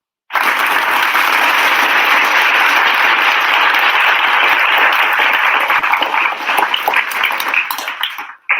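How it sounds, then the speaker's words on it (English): A crowd bursts into loud, sustained applause, many hands clapping together for several seconds before it tapers off and stops abruptly. "Let's give him a hand clap of praise."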